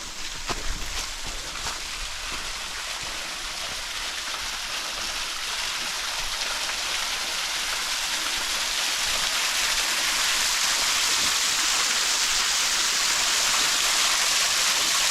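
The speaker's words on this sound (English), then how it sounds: "I'm gonna get over here next to this waterfall and show you what it looks like up close." A waterfall at Peachtree Rock Heritage Preserve in Gaston, South Carolina, heard up close as a steady, loud rushing wash of falling water that grows slightly fuller as the listener moves nearer to the splash zone.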